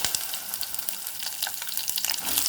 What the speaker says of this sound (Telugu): క్యాప్సికమ్ ఇవి ఒక 2 మినిట్స్ ఫ్రై చేసుకుందాము.